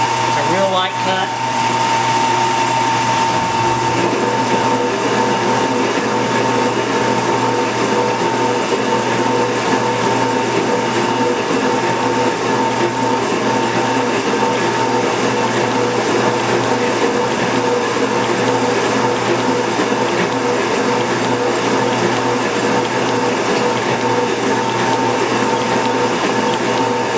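A metal shaper takes a very light surface cut, a steady loud mechanical drone with a constant whirring hum and faint rhythmic scraping throughout, without any speech.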